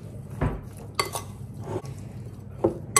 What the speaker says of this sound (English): I'm just gonna grab a spoon and mix that all together.